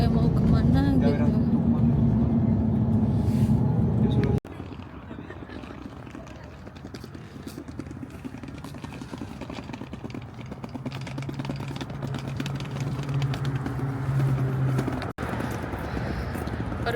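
Bus ride through Barcelona, a steady low engine drone and road rumble filling the cabin throughout, with a sharp jolt partway through and a brief drop in the noise near the start.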